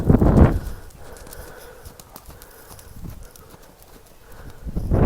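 A lunged horse trots over raised trot poles, hooves thudding in a steady rhythm with occasional sharper knocks, moderately close, with louder bursts at the start and end and no talking.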